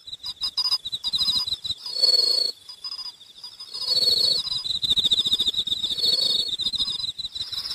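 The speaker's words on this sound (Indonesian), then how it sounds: "Sekarang kami akan mulai pertunjukan suara jangkrik yang indah ini." Cartoon crickets chirp in a high, steady trill during a cricket-song show in an animated Doraemon episode, the sound continuous and fairly loud with soft thumps and rustles beneath.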